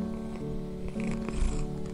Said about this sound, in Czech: Jeho kočičí předení je jako jemná melodie, která tě tak uklidňuje.